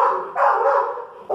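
A pit bull barks at a kennel, giving two or three loud, close, hoarse barks in quick succession.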